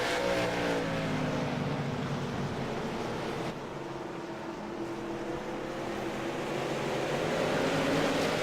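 Race cars run on a track in a close pack, a dense blended roar of engines with rising and falling tones as the field sweeps past, fairly far off and steady.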